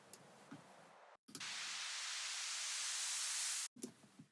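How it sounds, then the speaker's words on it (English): A filtered white noise uplifter rises as a bright, steady hiss for about two and a half seconds, isolated between short stretches of quieter background sound. "So this first uplifter here is white noise."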